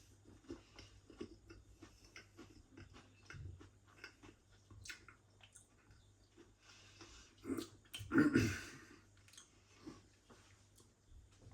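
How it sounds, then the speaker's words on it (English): Quiet, close crunching and chewing of a cracker with soft mouth noises, then a louder burst of crisp crunching, with no talking. "The cracker's nice and crunchy."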